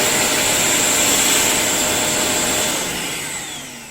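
A Vacmaster VQ1220PFC industrial wet and dry vacuum runs at full power with a loud, steady high-pitched whine and airflow roar, close and alone, beginning to wind down near the end.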